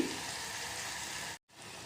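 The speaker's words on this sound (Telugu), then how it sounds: "ఉల్లిపాయ ఫ్రై అయ్యేలోగా ఇది గ్రైండ్ చేసి తీసుకొచ్చానండి" Onions sizzle steadily in a hot pan for a Telugu amaranth-leaf stir-fry, a dense, even hiss that cuts out briefly near the end and then resumes, close and with no talking.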